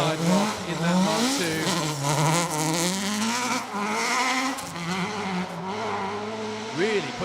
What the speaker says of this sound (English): You could hear them coming into the braking zone, still on the power.